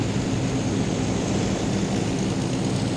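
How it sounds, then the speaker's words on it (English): A 14-ton propeller plane's engine drones steadily and loud, deliberately run lean at the edge of fuel starvation during a flight over ice, a continuous dense roar with no breaks. "rely on the sound of the engine to keep it just on the edge of fuel starvation"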